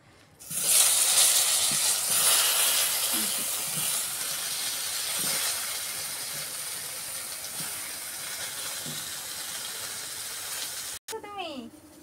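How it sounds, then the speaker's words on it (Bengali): Eggplant going into leftover oil from frying pomfret: a loud burst of sizzling hiss starts abruptly, then settles into a steady close frying hiss with occasional spatters, cut off near the end. "এবার আমি এই মাছ ভাজার তেলে বেগুনটা ভেজে নেব।"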